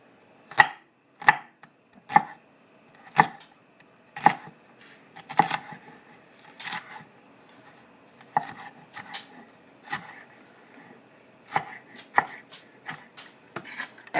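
A knife chops onion on a kitchen cutting board in a steady, evenly spaced series of sharp close knocks, about one per second, with no talking.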